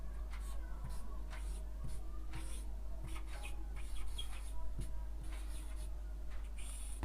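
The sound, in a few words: writing out a maths answer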